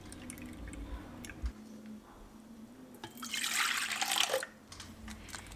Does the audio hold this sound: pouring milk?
yes